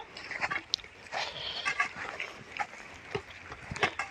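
Goats on a goat farm, just let loose and running about, bleat in scattered calls at close to mid distance over a busy background of movement and farm noise.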